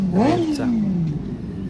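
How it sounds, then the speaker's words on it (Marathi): Superbike engines run at a roadside hotel stop on the Mumbai–Gujarat highway, one close, loud rev climbing sharply and then easing back to a throbbing idle. "तिथे एकपेक्षा जास्त बाईक आहेत कारण डबल आवाज येत आहे"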